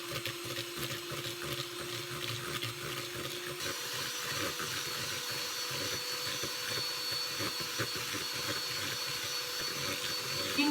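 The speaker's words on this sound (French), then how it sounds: "Maintenant, on va mixer un petit peu les blancs d'œufs" An electric hand mixer whirs steadily and close, beating egg whites with sugar in a bowl for a cake, a continuous motor drone with no talking.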